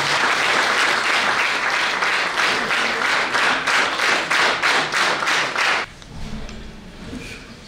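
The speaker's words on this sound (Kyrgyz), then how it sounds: "Кол чабуулар болсун." An audience breaks into loud, rhythmic clapping for poet Shailoobek Duishee at a poetry evening, the applause holding strong for about six seconds before cutting off abruptly to quieter room sound.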